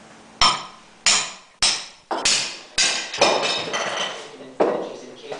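Metal-on-metal hammer blows ring out as a hydraulic cylinder is beaten apart in a workshop, about eight sharp, loud strikes at an uneven, roughly half-second pace, each with a short ringing decay.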